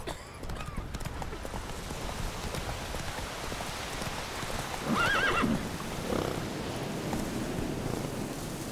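Roach the horse in The Witcher 3 video game trots with steady clip-clop hoofbeats amid rain, then lets out a clear whinny midway, close and moderately loud.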